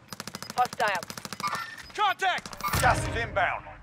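Rapid bursts of automatic gunfire in a Call of Duty Warzone Rebirth mini royale trios match, sharp repeated shots under overlapping player chatter and game effects.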